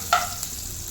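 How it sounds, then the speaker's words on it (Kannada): Dill leaves, onion and salt roasting in a pan give a brief stir-and-sizzle, with one sharp scrape of a spoon followed by a short fizzing hiss, close and alone. "ನಾನು ಉಪ್ಪು ಹಾಕ್ಬಿಟ್ಟು ಚೆನ್ನಾಗಿ ರೋಸ್ಟ್ ಮಾಡಿ"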